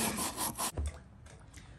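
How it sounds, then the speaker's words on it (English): A knife blade is sharpened on a whetstone with rough, rhythmic rubbing strokes that are loud for under a second and then fade to faint scraping, with no voices. "This whetstone is actually working much better than the file for getting it back into shape."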